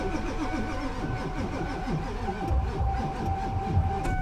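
A Ford 7.3 diesel truck engine cranks over and over without catching, a steady rhythmic churning up close.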